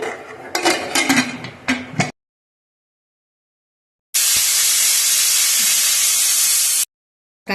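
Pressure cooker whistling while cooking khichdi: after some clattering pot sounds and a silent gap, a loud sustained steam hiss blasts steadily for about three seconds, then cuts off abruptly.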